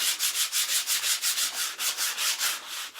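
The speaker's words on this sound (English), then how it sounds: "we're just going to come back in with our 220 grit" Rhythmic back-and-forth rubbing of 220 grit sandpaper on a wooden board being prepped for a sign, about a dozen even, close scratchy strokes at a steady pace.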